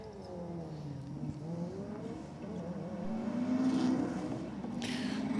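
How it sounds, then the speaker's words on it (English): A Subaru and a BMW drag race side by side, engines revving in a sustained roar whose pitch climbs steadily as the cars accelerate, growing louder toward the end. "Subaru and the BMW doing battle here now."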